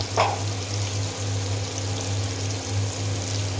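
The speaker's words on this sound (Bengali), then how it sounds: "এখন আমি ভালো করে ভেজে নিব।" Cabbage with turmeric and shrimp sizzles and frying in a pan, a steady, close hiss with a brief clatter at the start and a low hum underneath.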